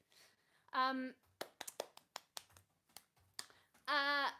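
One person claps by hand, about a dozen sharp, separate claps in an uneven rhythm, close to the mic and set between short stretches of talking at the start and end.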